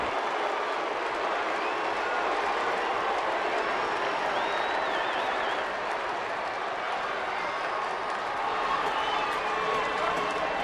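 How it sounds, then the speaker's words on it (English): A ballpark crowd at a Cubs–Dodgers game roars in a sustained, loud cheer for Carlos Pena's first home run of the year, broad steady noise filling the whole stretch without letting up. "you can hear the cheer all the way back to Chicago"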